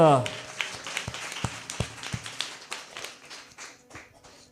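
A church congregation claps, a run of sharp hand claps at a steady beat, loud at first and then fading, with talk in the background.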